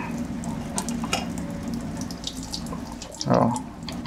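Running water and scrubbing as motorcycle brake parts are washed with dishwashing liquid, a steady close wash with a louder splash and gush near the end.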